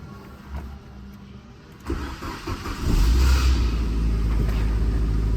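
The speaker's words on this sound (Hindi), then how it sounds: "बाकी ये है कि मैं इसको स्टार्ट करके देखता हूँ, स्टार्ट होती है तो मीटर चलता है कि नहीं।" A Suzuki Swift DLX car engine cranks and catches after a quieter stretch, then settles into a loud, steady low idle rumble close by.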